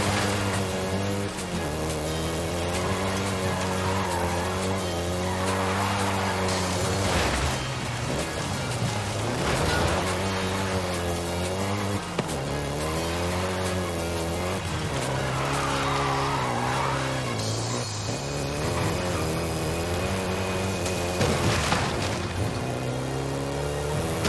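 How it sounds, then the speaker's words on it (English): Volkswagen Golf GTI driven in Forza Horizon 5, a steady loud engine drone rising and falling through gear changes, with tire squeal and skidding, continuous and close with no voices. "including the Golf GTI you're driving right now"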